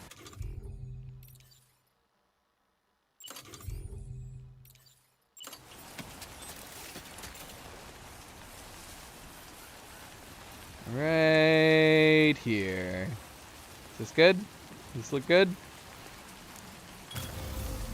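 Rain falls steadily in a Death Stranding 2 game scene as a soft, constant hiss, with a person talking over it and several loud tonal game sounds partway through.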